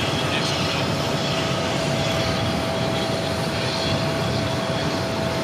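A Contour airliner arriving at Phoenix Sky Harbor airport produces a steady, broad jet roar heard at a distance, constant and unbroken, with a faint whine running through it.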